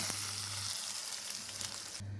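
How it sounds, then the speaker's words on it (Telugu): Fried curry-leaf tempering is poured into boiling mango dal rasam and sets off a steady, close, fairly quiet sizzle that runs without a break, then cuts off at the end. "ఇప్పుడు మనము దీన్ని తీసుకెళ్ళి చారులో వేసేద్దాం ఇలా మరుగుతున్న చారులోకి"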